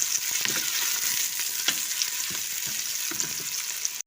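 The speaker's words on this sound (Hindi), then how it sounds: "हम अपने साग को प्याज का तड़का लगा रहे हैं।" Onions sizzle and crackle steadily in hot oil or ghee in a pan as a tempering for saag, a loud, continuous frying hiss with small pops throughout.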